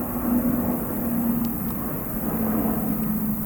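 Aeroplanes flying overhead along a footpath in Lingfield, Surrey: a steady, broad roar with a faint low hum holds throughout, constant in level and without distinct passes.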